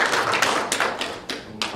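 A church congregation applauds the choir during a Sunday service, scattered but steady handclaps from a small crowd, irregular sharp slaps fairly close and clear with no talking over them.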